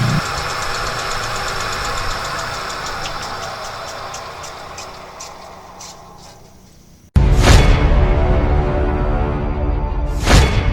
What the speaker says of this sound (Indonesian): kita matikan mesinnya dulu